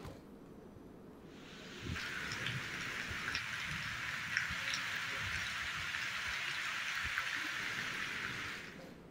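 Heavy rain, from monsoon downpours across the Telugu states and Andhra Pradesh driven by a deep low-pressure system, sets in as a dense, steady hiss after a quiet start and pours on evenly and loudly with scattered drop impacts.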